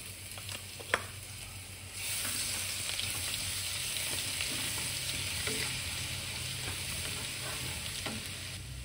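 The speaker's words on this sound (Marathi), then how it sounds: "इथे मी आलं, लसूण आणि हिरवी मिरची 2 हिरव्या मिरच्या यूज केलेल्या आहेत, त्या आपण आता ह्या तेलामध्ये मस्त असं फ्राय करून घेऊयात।" Ginger, garlic and two green chillies fry in hot oil as a loud, close, continuous sizzle. A stirring clatter comes first, then the sizzle jumps up and holds steady with light stirring sounds.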